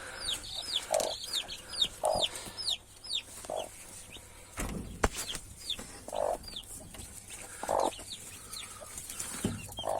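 A hen clucks in low bursts while chicks peep rapidly and continuously nearby, with occasional rustling and a thump.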